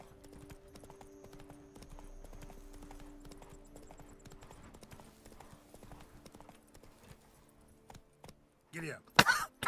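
Horse hooves clip-clopping in a steady trotting rhythm in Witcher 3, Geralt's horse Roach, with faint game background and a few louder bursts near the end.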